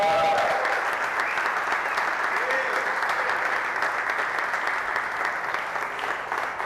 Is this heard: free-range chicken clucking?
no